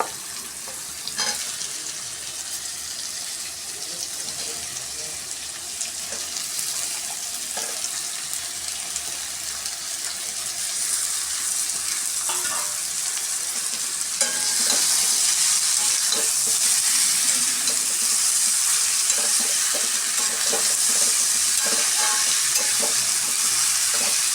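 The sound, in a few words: ivy gourd sautéing in a pan with asafoetida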